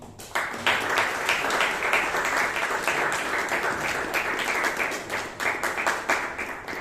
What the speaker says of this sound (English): please give the terrific evaluator and the specific speaker a big round of applause